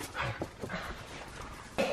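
Small dog whimpering and yipping in a few short bursts at close range, with a muffled bark near the end, in a busy home setting with some faint background voices.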